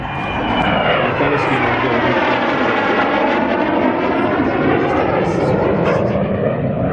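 An Impala jet trainer flies a display at an air show, giving a loud, steady roar with a sweeping tonal whine that shifts in pitch as the aircraft passes close by.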